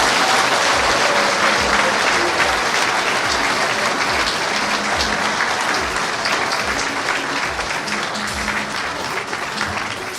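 A crowded hall applauds continuously at the signing of the transition charter by Captain Ibrahim Traoré, thick, even clapping holding for about ten seconds before easing slightly.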